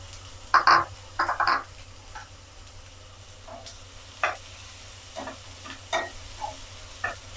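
Finely chopped large onion sautéing in oil after cumin seeds have spluttered, a faint low sizzle broken by several sharp clinks of a spatula stirring against the pan.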